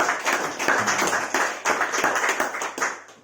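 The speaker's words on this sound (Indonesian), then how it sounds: "kita kasih aplaus dulu nih buat adik mahasiswa ini" Audience clapping for university students on a community service program at a village forest-fire prevention outreach event, a dense, steady round of applause from a nearby crowd that holds for several seconds.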